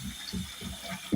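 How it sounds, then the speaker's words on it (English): Water running into a kitchen sink to fill it for soaking, a low churning gurgle with pulsing surges and a brief louder splash at the end, close and without talk. "submerge it with water. So I'm just gonna use the kitchen sink"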